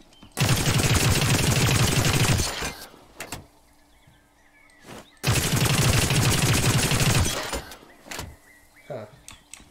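Scrapper gun in the video game The Cycle firing with heavy recoil: two long loud bursts of rapid gunfire, each about two seconds, separated by quieter handling clicks and mechanical sounds.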